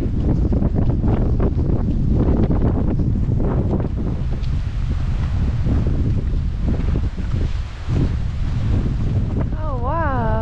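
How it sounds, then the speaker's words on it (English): Strong wind buffets the microphone in a constant loud roar on a valley side in Morocco's High Atlas Mountains, with a brief voice near the end. "And it's super windy this side of the valley."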